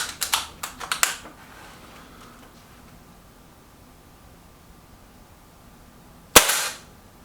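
Air rifle shots at a straight paper target in a Milbro Guardian versus Stoeger XM1 match: a cluster of quick sharp cracks at the start, then quiet, then one loud close crack near the end.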